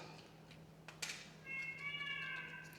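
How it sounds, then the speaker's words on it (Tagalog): A cat meows once, a drawn-out tonal cry heard close by over a quiet room with a faint hum and a soft knock just before it. "Maingay na yung isa kong pusa doon. Nagtatawag na siya."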